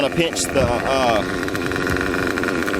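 Nitro RC engine settling to a steady idle after a wide open throttle pass, a buzzy droning rattle held close and loud throughout, with a voice talking over it.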